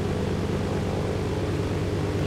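Steady, droning propeller airplane engine in the DayZ mod survival game, a constant loud roar with broadband noise and no change in level, no voices present.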